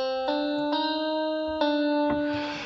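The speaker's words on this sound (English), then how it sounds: "Here's a bit of electric guitar." Electric guitar voice on a PopuPiano keyboard, a few sustained, bright notes struck one after another with a slight effect shimmer, played alone.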